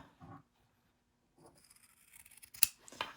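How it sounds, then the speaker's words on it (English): Scissors snip through fabric, trimming seam allowances on a sewing project: a few quiet isolated cuts, then a louder burst of crisp snipping near the end, all close and with no talking. "I'm just going to go around and trim my seam allowances in half"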